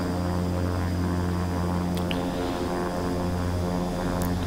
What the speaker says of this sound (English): let's go ahead and start the left engine